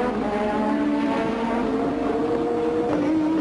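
A Formula 1 race car engine at the 1986 Hungarian Grand Prix gives a loud, continuous high-revving drone, steady and without talk.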